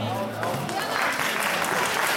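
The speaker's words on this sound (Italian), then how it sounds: "Accogliamo i ragazzi con un bel applauso e buon divertimento a tutti." Audience applause welcoming youth football players before a Città di Vicenza final between Montecchio and Longare, steady dense clapping with a voice over the start.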